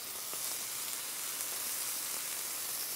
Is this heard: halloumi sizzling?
yes